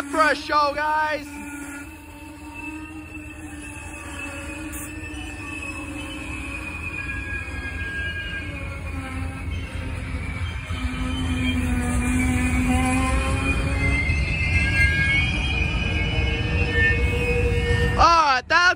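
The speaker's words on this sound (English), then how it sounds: "There is Amtrak!" An Amtrak passenger train rolls past close by, a steady rumble of wheels on rails overlaid with long, high metallic squeals that rise and fade, and a horn blast near the end.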